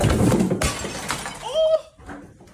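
Glass shatters as a monkey knocks things over, a short loud crash with ringing fragments, mixed in with other noise.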